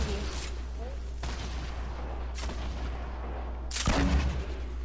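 Video game gunfire: several sharp broadband shots and bursts crack out at intervals over a steady low background hum, with the loudest blast near the end.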